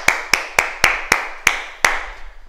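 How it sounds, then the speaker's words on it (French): Adult martial arts class clapping for themselves after karate kata drills: seven sharp, evenly spaced claps, close and crisp, each ringing briefly in the room, with no talking. "Et on s'applaudit"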